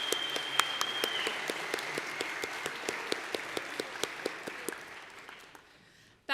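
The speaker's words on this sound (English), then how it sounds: "Give them a round of applause," An audience applauds the Elizabethtown College class of 2023 at a Baccalaureate service, a steady wash of claps with a few sharp individual claps standing out. The applause fades gradually, and a brief louder burst comes right at the end.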